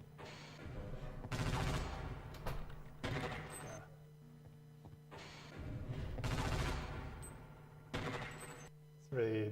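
Bursts of gunfire from the game Half-Life: Opposing Force come in several loud, separate volleys with quieter stretches between them, along with background game noise.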